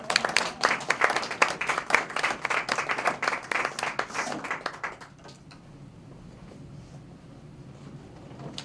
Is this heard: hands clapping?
yes